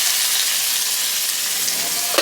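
Onion sizzling in a cumin tadka for palak paneer, a steady dense frying hiss that holds evenly throughout with no talk, ending in a faint clink.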